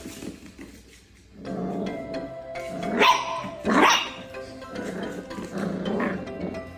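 A small dog barks and growls at a mini broom indoors, with sharp barks and low rumbling growls coming in bursts over a background of household noise.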